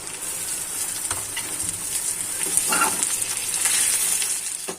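Onions and potatoes sizzle steadily in a hot pan, with intermittent stirring and scraping. There are no voices.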